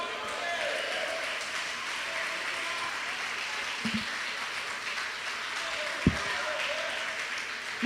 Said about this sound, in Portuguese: vamos dar uma linda salva de palmas para Jesus